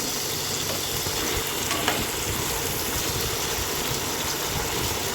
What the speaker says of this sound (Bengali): আমরাও ধীরে ধীরে এক পিঠ কড়া করে ভেজে নিচ্ছি মাছটাকে